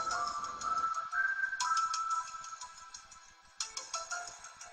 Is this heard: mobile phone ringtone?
yes